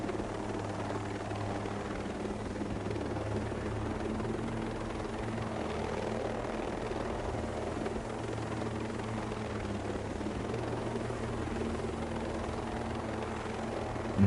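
Helicopter in Ghost Recon at night, its rotor blades producing a steady, loud, throbbing drone that holds constant from start to finish with no talk over it.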